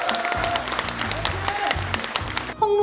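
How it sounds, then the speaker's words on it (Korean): A crowd at a political party's New Year greeting event in Chungnam and Sejong claps steadily and loudly, with tonal sound from the hall's PA system beneath and a brief change near the end. "뜨거운 박수 부탁드리겠습니다."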